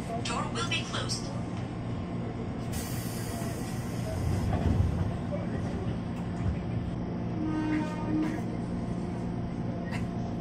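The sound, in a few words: KRL Commuter Line electric train running, Tanah Abang–Rangkasbitung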